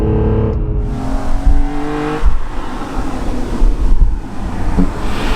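A stock BMW M3 CSL engine drones loudly from inside the moving car, its pitch rising and falling as the revs change between gear shifts, with wind and road roar beneath and no talking.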